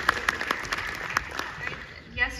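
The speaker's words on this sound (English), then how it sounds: "Give her a round of applause, by the way." Audience applause at a comic con panel in Liverpool, scattered claps over a low crowd murmur, fairly faint, fading out near the end.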